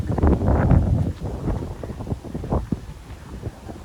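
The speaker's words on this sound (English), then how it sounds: "it's breezy in the mornings here in New York" Wind gusts in Fort Greene Park, Brooklyn, on a breezy morning, buffeting the microphone with loud low rumbling that peaks early and then eases into softer, uneven blustering.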